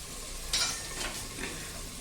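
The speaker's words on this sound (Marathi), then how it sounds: "थोडासा कांदा, थोडीशी कोथिंबीर, हे सगळं छान याच्यामध्ये परतून घ्यायचंय आपल्याला" Onion and coriander are stirred and sautéed in a pan for stuffed brinjal masala, giving a soft continuous sizzle with brief scraping strokes of a spatula, close and steady.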